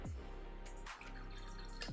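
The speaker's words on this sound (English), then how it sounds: "let's pour it into the cup and see what the colour is" Prime Meta Moon drink trickles and splashes steadily into a cup at close range, with a brief dip partway through and a small splash at the end.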